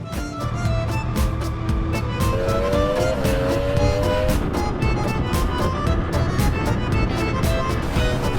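A 2025 Yamaha YZF-R3 sport motorcycle on a racetrack, its high-revving engine screaming steadily at close range, pitch climbing through gear changes amid constant loud mechanical roar.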